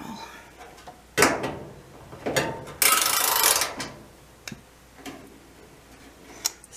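A ratchet wrench working a stubborn nut off a clothes dryer, with bursts of rapid clicking ratchet strokes separated by pauses and a few sharp knocks, close up.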